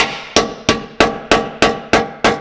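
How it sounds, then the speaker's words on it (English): Seven sharp, evenly spaced hammer strikes ring out loud and close in a garage while a subframe brace is fitted to a Nissan 240SX, with no talking. "we need a hammer"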